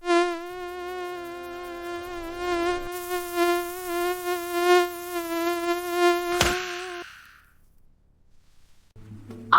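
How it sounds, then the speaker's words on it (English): Close, continuous high-pitched mosquito whine with a slight wobble in pitch, lasting several seconds before a sharp slap-like hit and then near silence. "Can you hear the mosquito buzz?"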